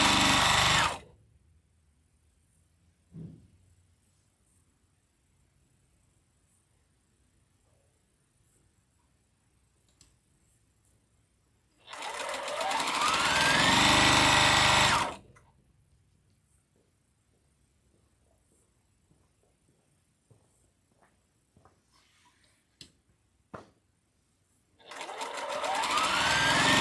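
Sewing machine stitching a seam in short bursts: a loud whirring run at the start, a longer steady run in the middle, and another starting at the end, with quiet pauses and faint clicks between.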